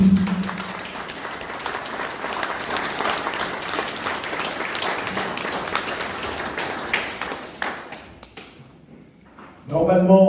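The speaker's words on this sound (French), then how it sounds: "Donc on peut l'applaudir." A town council audience claps for a newly elected mayor in Etival-Clairefontaine, sustained applause that fades over about nine seconds before a voice starts speaking.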